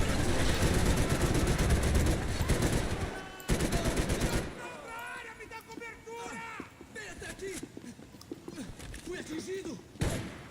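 Dense, loud rapid gunfire from the video game Max Payne 3 fills the first half, then bursts return sparsely under in-game voices talking, with a final sharp shot at the end.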